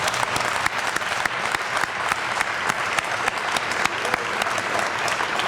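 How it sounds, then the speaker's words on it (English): An awards-night crowd gives a huge round of applause for the nominees and winners, a full, continuous clapping with sharp individual claps popping out near the front, steady and unbroken throughout. "give a huge round of applause for all of the nominees and the winners this evening"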